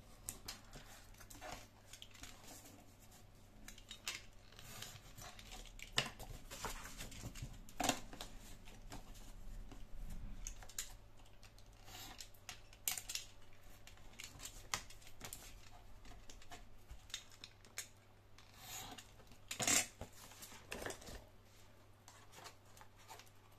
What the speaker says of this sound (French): je vais prendre mon petit outil pour faire mes angles. Alors, je vais couper comme ça.